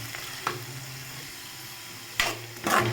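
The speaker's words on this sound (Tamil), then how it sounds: "சேர்த்து நல்லா வதக்கிக்கோங்க வெங்காயத்தை" Chopped onions sautéing in hot oil for a vegetable keema curry, a low steady sizzle with a few brief louder bursts of stirring.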